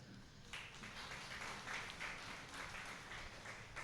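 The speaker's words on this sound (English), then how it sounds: "I think we can all have another round of applause." A congregation at a Sunday church service claps steadily together, a dense, sustained patter of applause that starts abruptly and holds at an even level.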